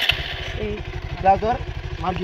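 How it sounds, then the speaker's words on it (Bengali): A motorcycle engine putters with a low, steady pulsing rumble while a learner rides, and people talk loudly over it close by. "ভাইকে বাইক চালানো শেখাচ্ছে"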